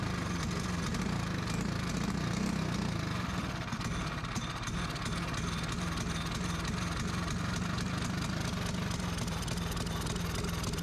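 A small LO206 go-kart engine runs steadily at a rough idle for the whole stretch, loud and close, with a droning low hum and no clear cutoff.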